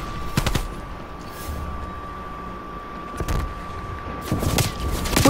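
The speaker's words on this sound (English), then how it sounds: "There's a turret." In Call of Duty Black Ops Cold War multiplayer capture the flag, a turret machine gun rattles in short bursts at the start, middle and end, broken by quieter stretches of game noise.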